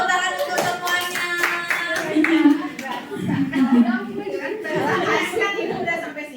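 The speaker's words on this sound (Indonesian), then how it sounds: "tepuk tangan untuk semuanya" Group applause from teachers at a positive school-culture workshop, a dense wash of clapping hands that runs steadily throughout, with chatter and voices mixed in over it.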